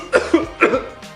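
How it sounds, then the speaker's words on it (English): A person coughs in two quick, close bursts, one after the other, followed by a short throaty tail. "he did a real cough"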